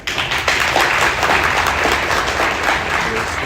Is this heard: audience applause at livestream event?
yes